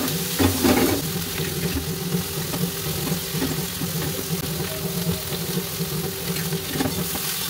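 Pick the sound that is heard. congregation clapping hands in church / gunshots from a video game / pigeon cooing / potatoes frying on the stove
potatoes frying on the stove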